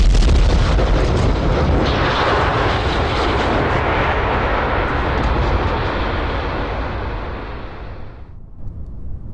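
Rocket booster launching from the pad in Kerbal Space Program, a loud, dense roar that builds at ignition, holds steady, then cuts off abruptly near the end.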